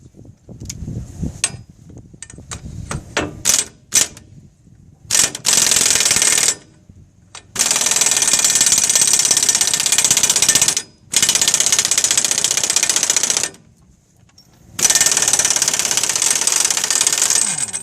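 Impact wrench with a 3/4-inch socket breaking loose a ball joint on a 2003-2009 Dodge 2500 4x4 truck, in several loud sustained bursts of hammering rattle separated by short pauses, after a stretch of clanking.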